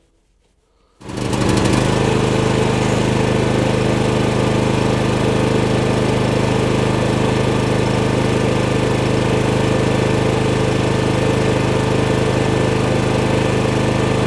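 A Champion 7.0 kW dual-fuel generator (CPG7500E2-DF-EU) runs on propane. It fires up after a second of quiet, then holds a loud, steady, close engine drone with no faltering. No talk.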